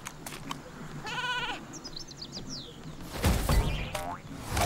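Sheep Creep, a sheep enemy in the video game Skylanders Trap Team, gives a couple of short, nasal, game-style bleats over background music and effects, with a louder burst of sound near the end.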